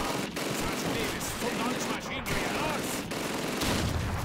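Sustained bursts of gunfire rattle through a German-language playthrough of the Call of Duty 2 campaign, dense and continuous for several seconds with little letup.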